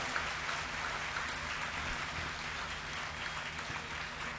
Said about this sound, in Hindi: जरा जोरदार तालियों के साथ गुरु जी का स्वागत हमको करना होगा।